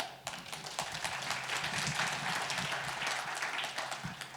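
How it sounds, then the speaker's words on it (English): A conference audience at the Leaders of Luxury Summit 2024 claps as a bank CEO is welcomed on stage. The applause is dense and sustained, with crisp individual claps in a moderately sized room. "Please, round of applause."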